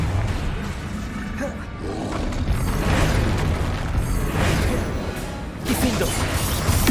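The Confringo spell in the Hogwarts Legacy video game sets off booming, roaring explosions that swell and fade in a few heavy bursts. A voice casting the spells speaks over the din.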